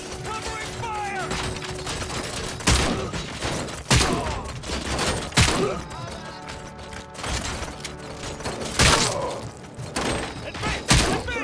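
Gunfire from the video game RoboCop Rogue City: a few heavy, sharp shots and thuds spaced several seconds apart, set over a dense bed of game noise and music, with a faint voice now and then.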